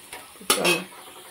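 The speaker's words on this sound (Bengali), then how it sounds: "তো চলো এই যে সিদ্ধ করে রাখা শাকটা আমি দিয়ে দিচ্ছি" Boiled greens dropped into a pan of frying browned onions give a sharp clatter of utensil on metal, then a brief rush of sizzling and stirring that quickly settles.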